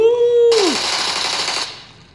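Rapid gunfire in the mobile game PUBG Mobile, played on a Redmi Note 14 Pro phone, bursts in as a loud, dense rattle that follows a tonal swoop and continues for about a second before cutting off.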